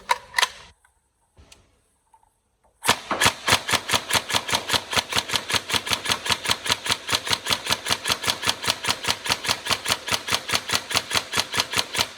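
A Tokyo Marui M4 CQBR airsoft rifle with a next-gen recoil system fires after a short quiet stretch with a few mechanical clicks, then loosing a long, fast, evenly spaced full-auto burst of sharp thumping shots.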